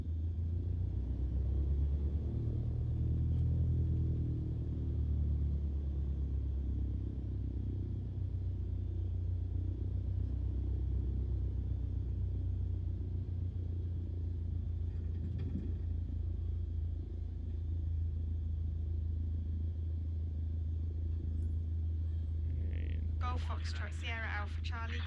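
An aircraft taxis in Microsoft Flight Simulator, a steady low engine rumble and drone that runs throughout, with faint chirping sounds near the end.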